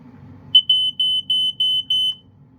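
Probe 401 Escape Light smoke alarm sounding on test: six loud, evenly spaced high-pitched electronic beeps close by, following a brief low rumble of handling, with no talk.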